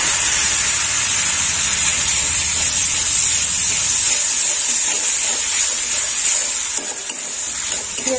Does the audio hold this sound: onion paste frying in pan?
yes